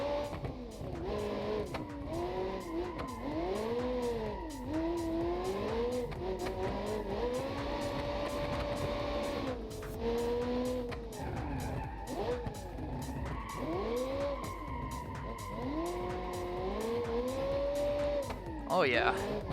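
In the BeamNG.Drive video game, a rear-wheel-drive car drifts, its tires squealing in long wavering howls that rise and fall with the corners, mixed with engine revving and a voice talking throughout.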